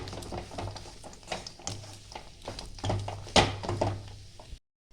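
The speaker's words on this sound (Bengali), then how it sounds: "দিয়ে ভালো করে আমি এটাকে নাড়িয়ে চাড়িয়ে নেব, সব যেন মিশে যায়।" A vegetable chop mixture with peanuts is stirred in a frying pan, with repeated scraping strokes and soft clacks over a low sizzle, until the sound cuts off abruptly near the end.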